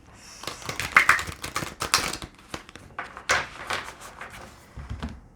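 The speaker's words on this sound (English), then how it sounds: "Some decks are not that easy to shuffle because they're so new" A brand-new deck of playing cards being shuffled, giving a run of sharp riffling clicks and soft card slaps in irregular bursts, close by with no talk.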